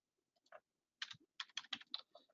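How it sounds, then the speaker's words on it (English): Someone types an IP address on a computer keyboard: quiet, close clicks, a couple of isolated taps, a brief pause, then a quick burst of about eight keystrokes in a silent room. "you gotta type in your IP address"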